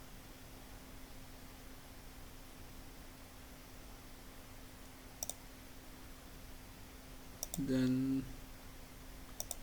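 Mouse clicks while building a split form in Microsoft Access, a few sharp isolated clicks spaced over steady background hiss, with a short spoken word partway through.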